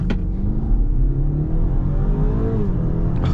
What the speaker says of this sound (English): let's go ahead and brake boost this BMW